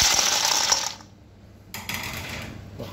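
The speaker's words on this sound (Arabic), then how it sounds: "رح أضيف التلج." Ice cubes tumbling and clattering onto cut potatoes soaking in salted water, a brief burst of rattling clinks, a pause, then another shorter run of ice rattling close by, with no talking.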